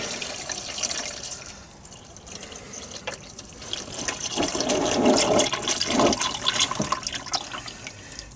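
Engine oil drains from a TVR Chimaera with a serpentine-belt engine, a steady trickling liquid stream with light splashing and drips, close by, rising somewhat louder toward the middle and continuing alone without talk.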